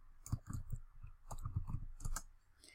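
Soft, close computer mouse clicks sound in a quiet room, several quick taps spaced irregularly.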